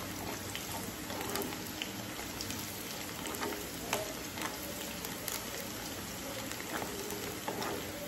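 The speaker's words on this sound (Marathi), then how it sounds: "तेलामध्ये छान त्याची परतून घ्यायचं आहे." Onions sautéing in oil in a pan for mutton rice give a steady, fairly quiet crackling sizzle that runs unbroken from start to end, with no talking.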